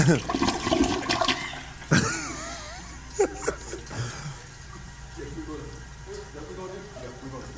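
A toilet flushes loudly up close, a rushing gurgle that fades into trickling refill, with people talking and laughing over it.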